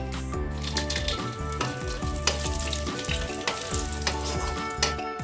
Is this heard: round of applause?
no